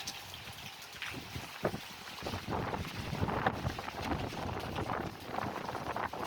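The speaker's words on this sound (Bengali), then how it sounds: "তো এত পরিমাণ বাতাস মানে বাতাসটা খুব ভয়ঙ্কর বাতাস" Strong cyclone wind gusts buffet the microphone in a rough, fluctuating rumble that grows louder and more turbulent, with no voices heard.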